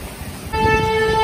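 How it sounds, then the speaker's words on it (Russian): A loud, steady two-tone horn from a Lastochka electric train sounds suddenly partway through and holds, over a low rumble of rain or traffic. "Электропоезд «Ласточка» сигналит."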